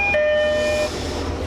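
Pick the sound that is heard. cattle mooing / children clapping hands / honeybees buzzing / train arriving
train arriving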